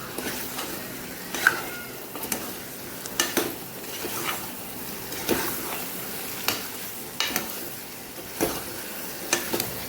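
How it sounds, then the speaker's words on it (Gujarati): Brinjal and potato sautéing with spice paste in oil for a Kathiawadi curry, a continuous sizzle broken by regular scraping stirs of a spatula against the pan, close and fairly loud, no talk. "મસાલાનું ત્યાં સુધી આપણે શાકને સાતડવાનું છે"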